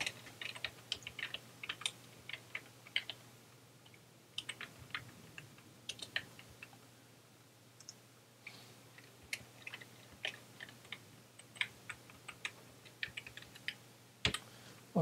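Typing on a computer keyboard in a quiet room, a steady run of light close key clicks with short pauses and one sharper tap near the end, no voices.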